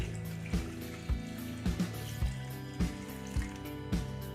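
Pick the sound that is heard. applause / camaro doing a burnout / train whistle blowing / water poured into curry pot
water poured into curry pot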